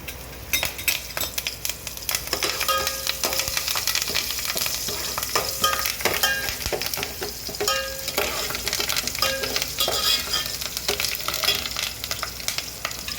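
Curry leaves crackle and sizzle in hot oil with mustard seeds, cumin and asafoetida for a tempering, a dense, steady frying hiss with sharp pops and spatters running throughout, close and fairly loud, with no talking.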